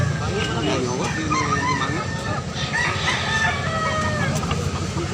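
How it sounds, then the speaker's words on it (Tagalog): Market roosters for sale in Carbon, Cebu crow and cluck several times over a dense hum of shoppers and chatter, the calls fairly close and overlapping. "Kunya guwapong manok."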